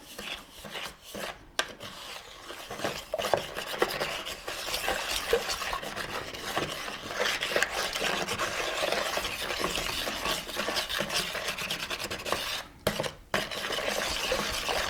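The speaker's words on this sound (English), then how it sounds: "So I'm adding my almond extract in. So I'm going to stir all this up." Batter with almond extract being stirred in a bowl for strawberry bread, a steady scraping and rubbing that carries on with brief pauses and no talk.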